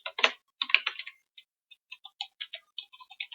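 Keys clatter on a computer keyboard in short bursts of quick, close taps with small pauses between them, with no voice over the typing.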